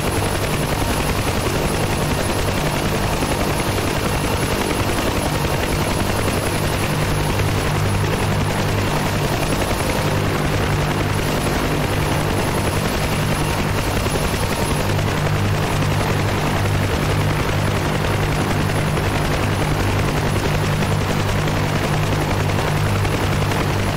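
A UH-1H Huey helicopter in the DCS flight simulator drones on with its steady turbine whine and rotor thrum, loud and unbroken for the whole stretch with no talking.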